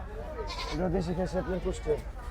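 A local Kushtia goat bleats nearby at the Gabtoli livestock market before Qurbani Eid, in a short wavering call of several pulses, with faint voices around it.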